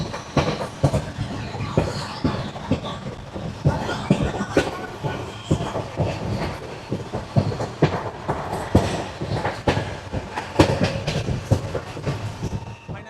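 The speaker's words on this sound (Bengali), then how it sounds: "আমাদের ট্রেন মধুপুর জাংশনের 2 নম্বর প্ল্যাটফর্মে আমাদেরকে ছেড়ে দিয়ে চলে যাচ্ছে হচ্ছে পাটনার উদ্দেশ্যে" A passenger train at Madhupur junction, platform 2, on a line heading for Patna, rumbles past close by with loud, continuous rhythmic clickety-clack of wheels over rail joints and occasional sharp metallic knocks throughout.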